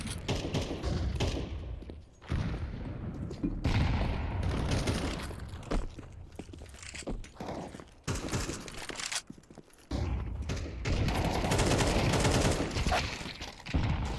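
Counter-Strike match with dense in-game gunfire: bursts of rapid shots and thuds packed together over fourteen seconds, fairly quiet overall and broken by a few short pauses.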